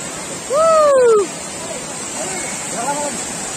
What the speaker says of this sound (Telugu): ఇదైతే మనకి స్టార్టింగ్ ఎంట్రన్స్లో కనిపించే వాటర్ ఫాల్ ఫ్రెండ్స్